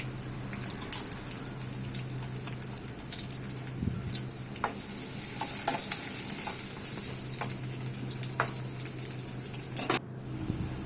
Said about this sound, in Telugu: ఆయిల్ వేడైన తర్వాత ఉల్లిపాయ ముక్కలు వేసుకోవాలి